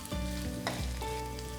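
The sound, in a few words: cashew nuts and grated coconut sizzling in a pan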